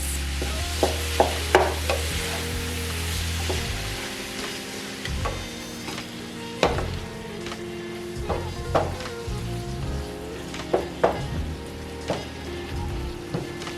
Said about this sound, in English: we're going to let this go until we browned up this meat into this mixture, this vegetable mixture here